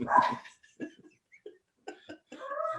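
Pet dogs bark indoors during a podcast recording, several short sharp barks and yips in irregular bursts, close and moderately loud with quiet gaps between them.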